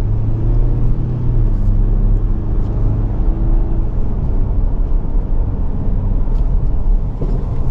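2024 Ford Ranger XLT 4x4 pickup with a 2.3 EcoBoost inline-four and all-terrain tires pulling away on a road, a loud steady engine and road rumble building continuously for several seconds with no talking.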